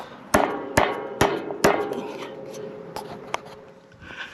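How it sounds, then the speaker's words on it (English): Four sharp metallic hammer strikes drive a pin through a Morris seeder tine in a steady rhythm, followed by a couple of lighter taps as the ringing fades. "So once we've got this pin lined up, we just hammer it the rest of the way through."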